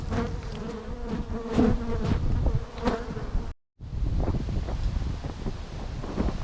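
Honeybees buzz densely around a hive outdoors, a continuous close swarm hum with individual bees zipping past and some wind buffeting the microphone, broken by a brief dropout midway.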